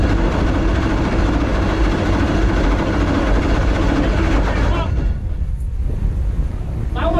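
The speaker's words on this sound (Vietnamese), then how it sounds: "Lái xe sẽ tiến hành nổ máy và cơ động đến cái vị trí mà chiến đấu." A military tank engine starts and idles during a combat driving exercise, a loud, steady low rumble that continues for several seconds before easing off near the end.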